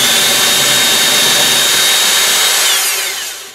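Power drill boring pilot holes in wood, one loud close whirring burst that holds steady, then winds down and fades at the end, with no talk.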